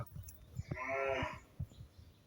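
A local cow at a livestock market for the Qurbani season lets out a single drawn-out moo at moderate distance, surrounded by soft thumps and quiet background bustle.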